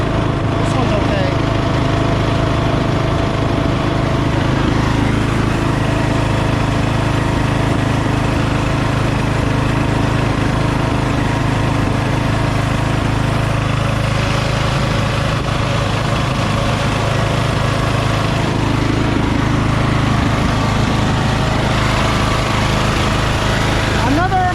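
The rebuilt engine of a lawn tractor idles loud and steady at close range, a continuous rough drone holding through the whole stretch with no pauses.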